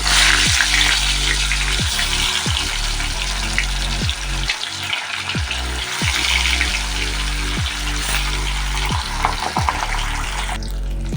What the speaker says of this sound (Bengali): কড়াইতে তেল গরম হয়ে গেছে, এখন মাছগুলো দিয়ে দেবো।